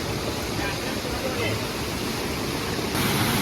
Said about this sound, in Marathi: हा बघा केवढा मोठा धबधबा आहे